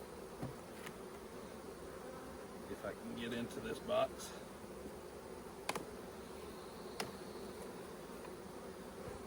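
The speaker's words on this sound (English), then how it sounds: "we'll pop this box off and start shaking bees" Honeybees buzz in a constant drone while a hive box is opened and frames are shaken during a hive split, with a brief spoken line and scattered knocks and scrapes of wooden equipment.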